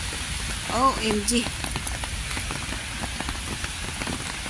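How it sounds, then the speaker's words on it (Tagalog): Heavy rain pours on the way to a bus stop, a dense continuous patter of drops hitting surfaces close by, with a brief spoken exclamation early on over the steady downpour. "malakas yung ulan."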